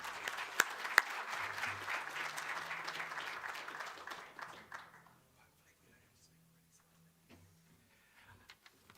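Applause from a business council audience greeting a speaker onstage, a dense burst of clapping for about five seconds that fades out, leaving quiet room noise with scattered faint sounds.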